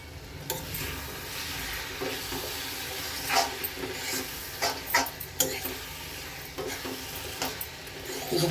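Vangibath with jaggery is stirred and fried in a pan, a steady sizzle under repeated scraping of the spoon against the pan, close and moderately loud, no talk.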